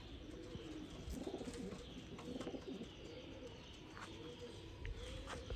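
Pigeons in a loft coo repeatedly in soft rolling calls over a steady low background hum, with a few faint chirps scattered through.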